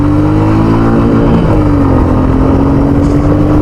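A 2021 Royal Enfield Meteor 350 motorcycle rides along with its engine note rising and falling in pitch, a steady loud exhaust drone with harmonic tones through the whole stretch and no talking.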